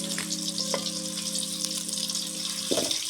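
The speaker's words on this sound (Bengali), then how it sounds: "এগুলাকে এখন নাড়া হবে যে নেড়ে নিচ্ছে একদম ভালো মতো আমি একটু নাড়ি" Oil sizzles steadily in a pan as haleem ingredients with onions fry, with a few scraping stirs and a brief clatter near the end, close and continuous without any talking.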